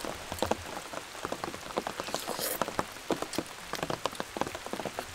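Heavy rain drums steadily on a truck camping setup, dense close patter with sharp individual drop impacts scattered throughout, no voices.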